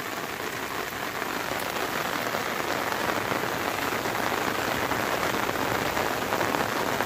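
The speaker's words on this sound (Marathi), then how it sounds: "पाऊस पडतो तेव्हा वातावरण बघा कसं असतं" Heavy rain pours down in a steady, dense wash, loud and unbroken throughout, with no voices over it.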